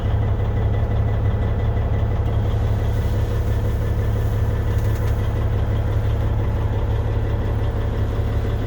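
A pre-emissions truck engine idling after a cold start on a roughly 25-degree morning in southern Colorado, a loud, even low-pitched rumble running steadily throughout with no talk.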